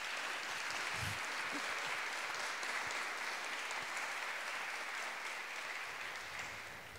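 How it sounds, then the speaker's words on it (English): Sustained audience applause at a talk on the Italian No TAV protest movement, dense and even for several seconds before tapering slightly toward the end, with no speech over it. "I also ask you please to do nice applause to them"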